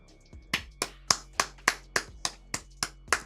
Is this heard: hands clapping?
yes